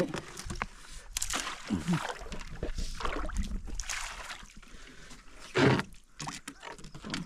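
A wooden fishing boat is dragged out through shallow water on the Krishna River, with continuous sloshing, scraping and splashing close by, a louder splash near the end, and occasional voices.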